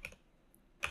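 Typing on a computer keyboard, a couple of quick soft key clicks at the start and another burst at the end, close and faint.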